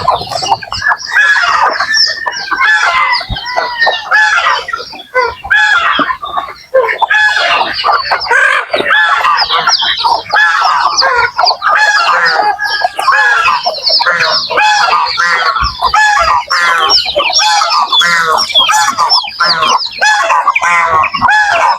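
A flock of backyard chickens, hens and chicks, clucking and chirping busily at feeding time on a rainy morning, with a rooster crowing, loud, close and continuous.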